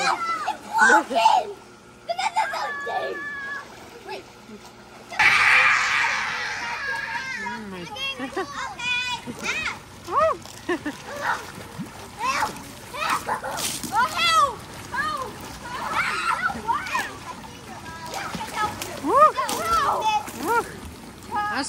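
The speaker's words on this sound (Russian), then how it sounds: "периодически они к нам приходят и купаются в нашем бассейне" Children shout and play while water splashes and sloshes in a swimming pool nearby, their voices loud and constant over the watery noise.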